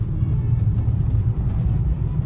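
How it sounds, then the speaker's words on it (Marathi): Steady low rumble of heavy road traffic just past the Khandala tunnel on the ghat road, on a damp day after rain, continuous and fairly close with no talk. "खूप ट्रॅफिक आहे"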